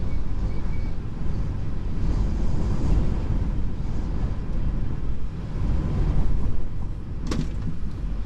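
Strong high wind gusts around a flatbed truck stop between Colorado and Texas, a loud, unbroken roaring buffet with a brief clatter near the end.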